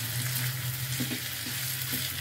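Grated ginger and garlic frying in a pan while being stirred for an egg omelette curry, a steady close sizzle with a low hum beneath and a few soft scraping strokes.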